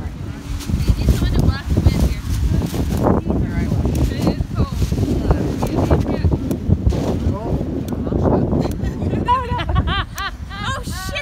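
Gusty outdoor wind buffets the microphone in a loud, continuous rumble, with people talking and exclaiming over it, their voices clearer near the end.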